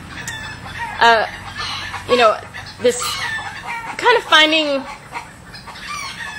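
Chickens cluck and crow close by in several short, loud bursts spread across the clip, with a person speaking briefly between the calls.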